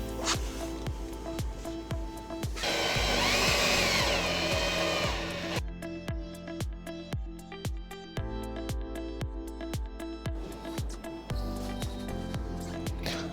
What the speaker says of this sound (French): je vais mettre une vis provisoire pour maintenir la platine arrière